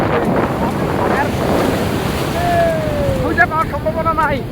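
Ocean surf at Cox's Bazar beach rushes and churns close by, with wind buffeting the microphone and a few faint whistle-like tones near the end.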